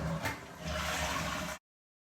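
A toilet flushes with a steady rushing roar of water, close and fairly loud, then stops abruptly into silence.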